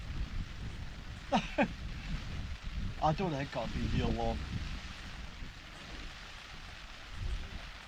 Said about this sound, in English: Now it's pouring down rain.